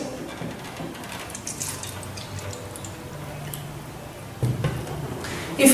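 Tap water from a home faucet is poured into a glass, a soft steady trickle with light drips running through the clip, rising slightly louder toward the end; faint background voice-like sounds underneath.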